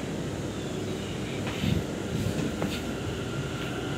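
An empty Delhi Metro train runs between Anand Vihar and Jafrabad, a steady low rumble and hiss of the moving carriage with a couple of faint clunks, heard from inside.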